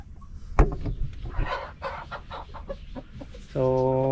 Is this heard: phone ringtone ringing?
no